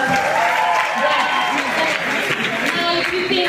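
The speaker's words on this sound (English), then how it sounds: "Let us give them a better round of applause." An audience at a women-in-film awards ceremony at Kenya National Theatre applauds the winners, with dense clapping and crowd noise, and voices talking over it.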